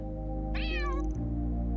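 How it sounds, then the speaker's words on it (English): Cartoonish cats in the Trails through Daybreak 2 video game let out a single rising meow, about half a second long, over a steady game music bed. "Oh shit, the cat brigade."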